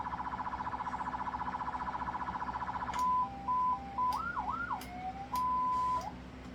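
An electronic siren from a Jeep's power switch starts as a fast rapid warble, then switches to stepped tones and swooping wails. It is steady and close, with no talking.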